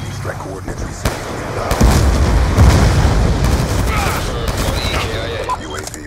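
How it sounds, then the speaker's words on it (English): Lightning strike killstreak explosions from the video game Black Ops 2: dense, rolling booms and crackling blasts fill the stretch continuously and loudly, with in-game voices speaking over the barrage. "Lightning strike coordinates received."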